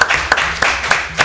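An audience at a school quiz contest claps in a steady beat, about three claps a second, close and fairly loud over a low room hum.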